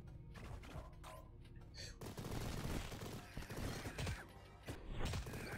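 Rapid gunfire in the video game Mighty Goose, dense machine-gun bursts with mechanical clanks and impacts layered over game music, loud and continuous.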